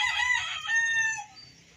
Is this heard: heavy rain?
no